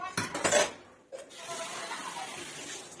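A metal kadai set down on a gas stove, giving a couple of clanking, scraping knocks up close at the start, then a quiet kitchen hum.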